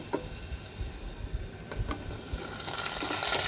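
About fifteen small onions and fifteen garlic cloves sauté in hot oil in a pan for bitter gourd kuzhambu, giving a close, steady sizzle with stirring scrapes that grows louder toward the end.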